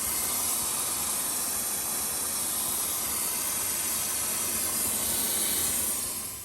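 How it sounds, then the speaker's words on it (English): A steamer blows a steady, loud hiss of steam to melt built-up ice inside a GE refrigerator that is leaking water, the broadband rush holding constant and close for the whole stretch before easing slightly at the end. "We're gonna have to do more with the steamer."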